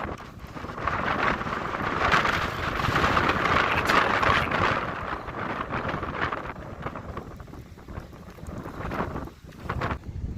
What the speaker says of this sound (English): It's really windy, so I hope you can hear me